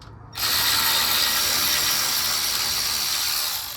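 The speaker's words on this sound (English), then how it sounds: "Now I use the cordless to do this faster." Cordless ratchet driving 13 mm brake caliper bolts on a 2016 Ford F150 EcoBoost, a loud, close, continuous rapid whirring clatter that starts abruptly and runs nearly four seconds.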